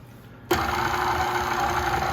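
Electric mixer whirring through batter for a Valentine's Day treat, switching on abruptly after a brief quiet moment and then running at a steady, loud, even drone close by.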